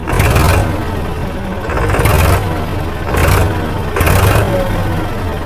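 A tractor engine in low gear takes light throttle, its steady low drone swelling into four short revving surges at regular intervals, loud and close with no voices.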